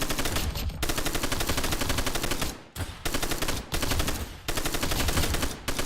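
Rapid, dense gunfire from a Desert Eagle pistol in a video game shooter, loud and near, in sustained bursts broken by a few short pauses.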